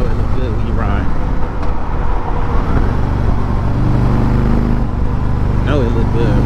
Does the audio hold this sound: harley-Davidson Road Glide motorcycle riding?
yes